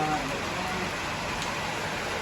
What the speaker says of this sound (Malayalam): നല്ല മഴ പെയ്യാണ്